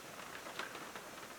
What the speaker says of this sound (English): it rained too hard to even hunt today